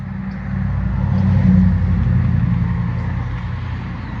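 Road traffic rumbles past on a street beside a parked vehicle, a steady low engine drone swelling toward the middle and easing off again, with no talk.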